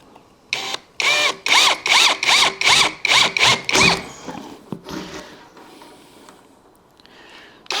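A power drill cutting a hole in a piece of aluminium, loud and close, with a rapid series of short, regular pulsing whirs followed by quieter, rougher grinding and a fade-out.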